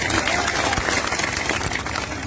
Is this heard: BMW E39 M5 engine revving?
no